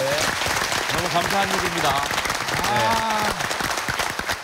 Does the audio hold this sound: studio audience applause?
yes